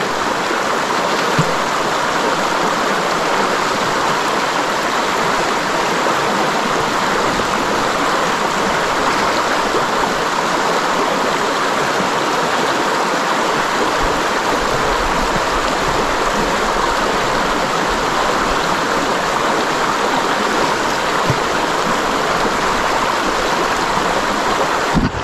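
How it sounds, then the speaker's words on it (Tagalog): A river flows in a continuous, loud rush of water with a broad, steady roar and splashy texture throughout, nearby and uninterrupted, with no talking. "Andito tayo sa ilog ngayon."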